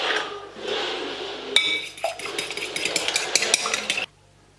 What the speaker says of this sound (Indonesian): sekarang kita kocok si telur dulu ya